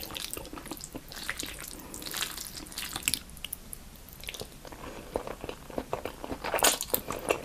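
Someone chews spaghetti containing a whole cherry tomato, producing close, wet, crunchy and squelchy bites in a continuous irregular rhythm, with no talking.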